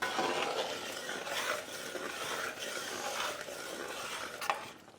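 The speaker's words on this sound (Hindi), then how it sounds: "अब हमें चिकन को अच्छे से ग्रेवी में पकाना है और बीच बीच में हम चलाना ना भूलें" Chicken simmering in gravy in a pan for chicken changali, stirred with a utensil, giving a steady sizzle and wet scraping with a light clink near the end.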